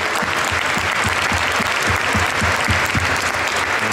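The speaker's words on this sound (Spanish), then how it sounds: "Un aplauso para ustedes mismos." A church audience at a Virgin of Guadalupe mass claps warmly, dense steady applause with a loose rhythmic beat running through it for several seconds, no speech on top.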